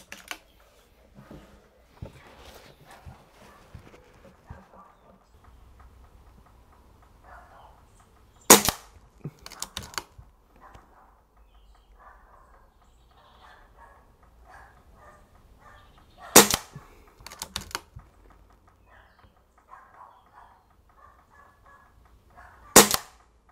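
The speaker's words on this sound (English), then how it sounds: "So I'm going to take three shots with the Ultimate Sporter stock on the S510" Three sharp rifle shots from an Anschutz S510 with an Ultimate Sporter stock on an outdoor range at 25 meters, spaced several seconds apart, with quiet range ambience and faint birds between them.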